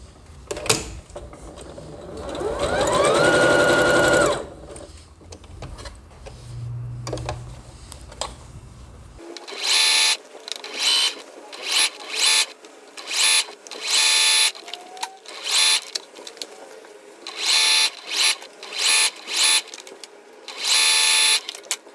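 A domestic sewing machine stitches over the shoulder of a lined blouse, working around the front and armhole. A different mechanical noise comes first, then a string of short, loud stitching bursts separated by brief pauses.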